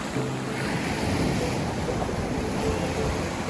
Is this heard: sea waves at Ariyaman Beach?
yes